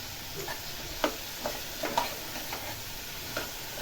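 Chopped bottle gourd is stirred in a frying pan with chana dal, a low sizzle underneath a handful of distinct spatula scrapes and taps at irregular intervals, close and fairly quiet.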